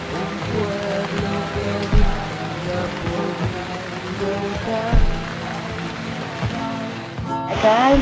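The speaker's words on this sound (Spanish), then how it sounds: "acaba de empezar la lluvia" Rain beginning to fall in a rural Amazonian village, a steady dense patter on surfaces with a few louder drips and thumps, continuous and fairly close throughout.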